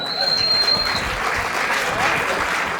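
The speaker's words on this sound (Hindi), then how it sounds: "तालियां बजाया करो" Applause from an audience under a pandal at a Hindi poetry recital, steady and fairly loud, with a murmur of crowd voices mixed in.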